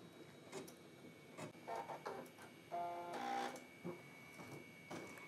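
A Brother embroidery machine stitching text, with faint intermittent clicks and short buzzing bursts of needle movement and thread trimming, quiet and close with no voices.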